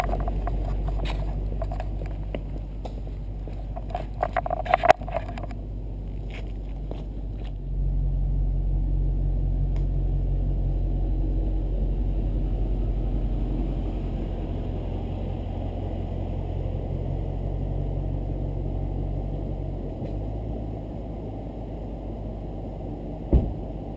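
Lexus IS F car on a road test drive after a brake job, low steady engine rumble and road noise from inside the cabin, rising in level partway through, with a few faint knocks and no talk.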